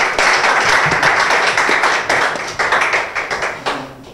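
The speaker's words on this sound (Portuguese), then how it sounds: "Por favor, aplauso para AG, pessoal." Close, loud audience applause at a rap battle event, dense clapping that thins into a few separate, sharper claps toward the end.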